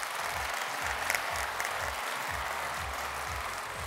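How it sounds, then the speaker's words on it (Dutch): Warm audience applause at a 2018 engineering challenge livestream, dense continuous clapping that stays loud and even throughout, heard alone without talk. "Geef u een warm applaus, Alex Strijdselaar!"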